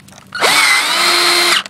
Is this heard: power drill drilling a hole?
yes